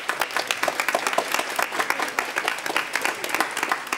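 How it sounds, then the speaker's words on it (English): A crowd applauds steadily, dense clapping that holds at an even level throughout with no break. "And so let's give a big round of applause to our assistant director, Olina Su."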